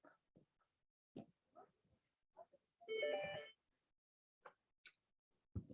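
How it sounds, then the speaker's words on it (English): A phone sounding an unusual ringtone: one short electronic tonal burst of about half a second, sitting among scattered soft clicks and faint brief noises in a quiet room. "Did my phone just ring? That's a weird one. It doesn't usually sound that way."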